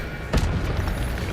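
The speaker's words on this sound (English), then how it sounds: "Incendio." A fire spell cast in Hogwarts Legacy bursts with a single loud whooshing boom and crackle, then a rumbling tail of game effects.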